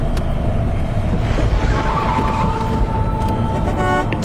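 A car drives along a quiet road flanked by forest, a steady broadband engine and tyre rumble held at constant loudness throughout, with a faint tonal hum and a brief horn-like toot near the end.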